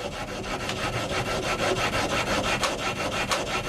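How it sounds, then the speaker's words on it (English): Metal is hand polished to remove copper oxide and scratches, giving a close, steady rhythmic rubbing with rasping strokes repeating several times a second. "I'm going to polish the metal now to remove the copper oxide and the scratches."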